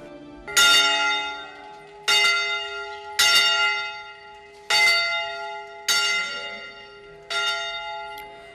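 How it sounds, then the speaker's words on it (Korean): Church bell in Mardin, Turkey, in southeastern Anatolia, a tradition dating from the fifth century, tolling six clear, resonant strikes about a second apart, each ringing out and decaying before the next, with no voices. "이 종소리는 5세기 이후부터 지금까지 계속되고 있다는데요."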